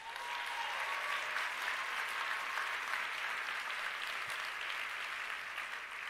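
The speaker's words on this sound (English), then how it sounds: "you should give yourselves a round of applause" Steady audience applause fills a speech hall in a sustained, even wash of clapping, loud and continuous with no voices over it.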